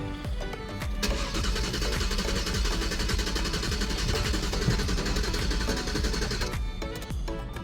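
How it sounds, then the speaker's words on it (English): A Jaguar S-Type car engine cranks over and over with a dense, steady mechanical churn, loud and close, running for several seconds before cutting off. "That makes me kind of happy hearing the engine actually crank."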